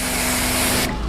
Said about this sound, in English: spray this a little bit